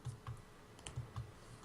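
Keyboard typing transmitted over a Skype call: a handful of soft, muffled key taps in an uneven rhythm, faint and slightly distant, with no voices over them.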